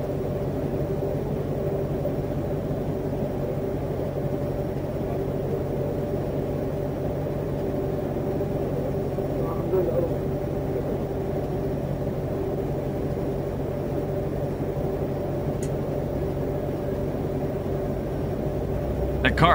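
A car engine idling nearby during a roadside DUI stop, a steady low rumble and hum running unbroken for about twenty seconds with little variation.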